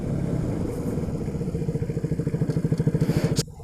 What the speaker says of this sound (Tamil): கிளச்சை பிடிச்சி இப்போ நான் பிரேக் பண்ணுறேன்